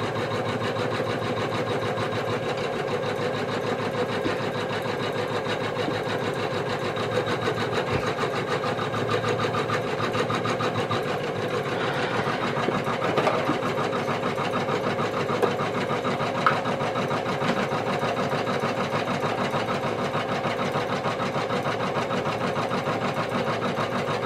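Janome embroidery machine stitching a design onto boxer shorts: a fast, even mechanical whirr of rapid needle strokes that runs continuously for over twenty seconds, with faint clicks and no voices.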